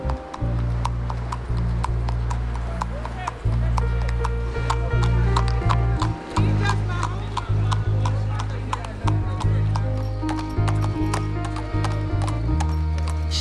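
A horse ridden by urban riders on Fletcher Street in Philadelphia clip-clops along a city street. Its rhythmic, close hoofbeats ring out over a loud, steady low hum.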